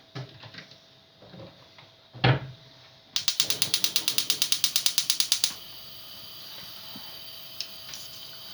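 A gas stove is lit under a pan of oil for frying balon pişi dough: a single sharp click, then about two seconds of rapid, evenly spaced igniter ticking, with quiet kitchen background before and after.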